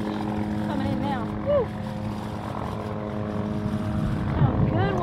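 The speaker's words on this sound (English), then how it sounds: "Sorry for the airplane." A propeller airplane flies overhead above a lake where someone is bass fishing, a loud steady droning hum throughout with faint voices and exclamations mixed in.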